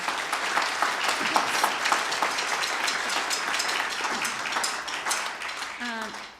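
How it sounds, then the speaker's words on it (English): Audience at a high school Christmas concert applauds warmly, a steady wash of clapping at moderate volume with some voices mixed in and a brief tonal note near the end. "So a round of applause for Jeff Kelman"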